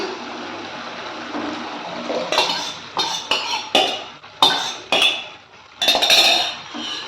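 Spoon stirring a radish and lentil stew in a metal pot, loud close scraping strokes in uneven bursts with clinks against the pot, after a few seconds of steady simmering hiss.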